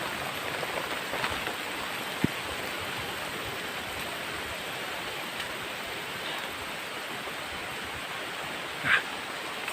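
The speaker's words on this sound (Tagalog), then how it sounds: "Ang lakas ng ulan bro." Steady, dense rain pours down in a continuous hiss, with a faint knock and a brief squeak breaking through.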